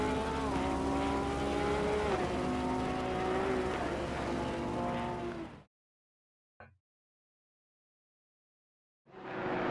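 GT race cars lapping the Hungaroring in Assetto Corsa Competizione roar with layered engine whines that shift in pitch, then the sound cuts out to near silence before the engines return briefly at the end.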